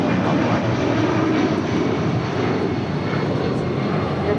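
Fixed-wing airliner taking off from runway 25 right at LAX, a loud, steady broadband engine roar that holds constant throughout, with no voices.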